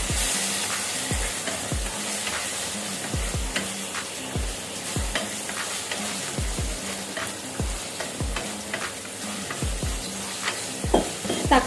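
Chopped tomatoes frying with onions in a pan, a steady close sizzle broken by repeated sharp spatula scrapes and stirring knocks in an irregular rhythm, with no voices.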